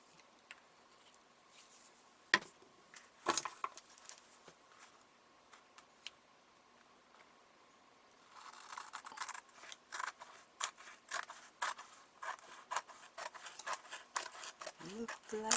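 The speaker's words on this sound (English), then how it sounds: "I have to cut all that off. Okay, alright. Little trimming to do." Scissors trim magazine pages, making quiet, crisp snips and paper rustles. They start sparse and become a busier, irregular run of cuts in the second half, all faint and close.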